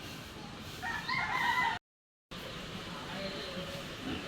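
A rooster crows faintly in the distance near a chicken coop amid a steady outdoor hiss, briefly cut by a moment of silence.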